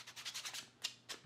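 Quick rhythmic rasping strokes of sandpaper rubbing leather, several fast passes followed by a few slower, separate scrapes, close and quiet.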